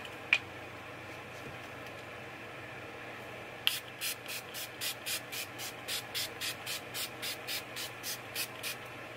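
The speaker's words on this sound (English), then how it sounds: "I'm just going to go ahead and spray my face with my setting spray, and I'm going to use my NYX Dewy Finish setting spray" NYX Dewy Finish setting spray misted onto a face in a quick series of about fourteen short, evenly spaced hissing pumps, close and clear, with no talk over it.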